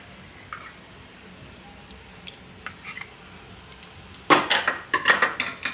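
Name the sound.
stirring and roasting sukhdi in ghee on low gas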